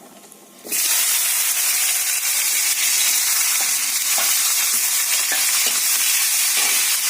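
Tomato hitting a hot pan, a sudden burst of loud, steady sizzling and hissing that continues evenly with small stirring ticks; close and loud, no talk.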